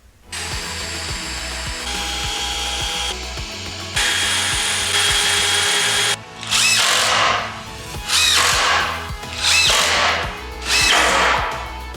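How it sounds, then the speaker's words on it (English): A power drill drives screws into the glued wooden frame of a 3D printer table, whining in repeated bursts of several seconds each with short pauses between, loud and close with no voices. "It's time to reinforce them with some screws."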